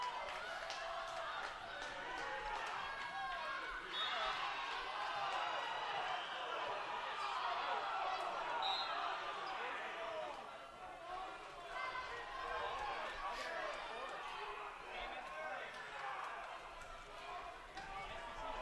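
A volleyball crowd in a gym grumbles and shouts unhappily at the officials, a steady wash of voices and chatter under a commentator talking throughout.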